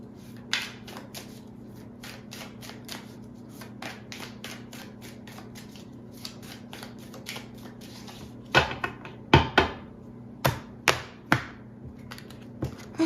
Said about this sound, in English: I'm shuffling the deck out